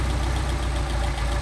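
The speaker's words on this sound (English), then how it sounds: "This time we'll hear the engine falter." A car engine with a Solex carburetor idles steadily and close by while the mixture screw is adjusted, its low rumble running unevenly with a slight dip near the end.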